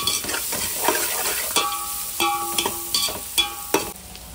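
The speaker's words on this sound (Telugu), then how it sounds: "ఒక గుప్పెడు కొత్తిమీర కూడా వేసుకొని మనం ఇలా ఫ్రై చేసుకోవాలండి" Turmeric and a handful of fresh coriander fry in hot oil for an omelette biryani, sizzling close up while a spoon stirs and scrapes the pan in sharp, irregular strokes.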